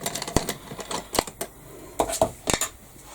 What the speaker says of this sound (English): I'll use my big scissors just to cut around it